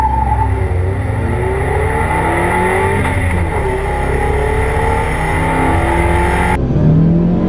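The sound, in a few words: car accelerating hard with wheel spin during 0-60 mph test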